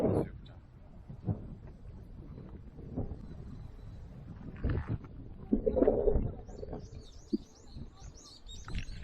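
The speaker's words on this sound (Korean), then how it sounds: "수욕장 새소리 봐라" Birds chirp and call near a quiet beach on a summer holiday. The small, faint tweets come and go, strongest toward the end, over low background noise and a few nearby voices.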